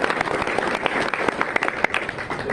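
An audience at a Kansas City tech talk claps and cheers for a speaker being introduced on stage, a dense burst of applause with a few louder claps and some crowd noise, fairly close.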